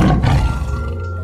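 A tiger gives a single loud, close roar that rumbles deep and fades within about a second, with no other sounds around it.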